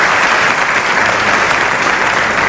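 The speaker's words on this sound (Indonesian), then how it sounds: "Tepuk tangan." A television studio audience on an Indonesian talk show claps steadily in loud, dense applause that fills the whole moment without pause.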